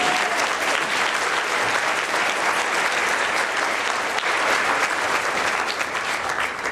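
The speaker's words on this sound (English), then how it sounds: "you just gave me a standing ovation" A standing ovation from a Nashville audience at an inspirational talk: thick, sustained applause that stays loud and even from start to finish, with a faint murmur of the crowd beneath.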